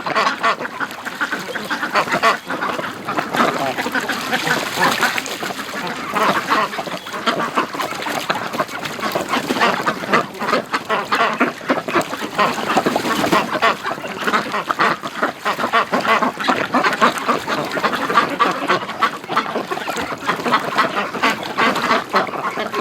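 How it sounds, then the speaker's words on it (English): A flock of breeding ducks quacks continuously and loudly in an outdoor winter pen beside a heated tub of water, a dense, overlapping chorus of calls with splashing-like texture and no speech. "Oh, a little bit of duck porn happening here."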